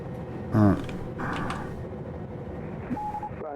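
Landing gear of a Ryanair airliner retracting after takeoff from Stansted in Microsoft Flight Simulator, a single loud mechanical clunk and creak, then a lower whirring rumble, ending with a short cockpit beep.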